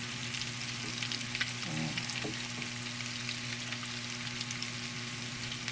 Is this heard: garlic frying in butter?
yes